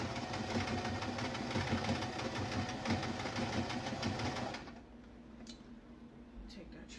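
A sewing machine runs fast and steady, stitching hair extension tracks onto a cap, with a dense mechanical chatter that stops abruptly near the end, leaving quieter handling noises.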